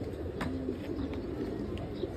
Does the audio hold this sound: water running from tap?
no